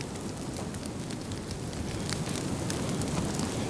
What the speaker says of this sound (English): this piece is burning really good. I think it's all the pine straw that's in here.